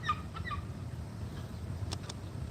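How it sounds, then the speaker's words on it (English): Gulls call in brief, sharp squawks over a quiet background at Waukegan Harbor, a few clustered cries early and a couple more near the end, moderately distant. "It's just so wonderful hearing those seagulls."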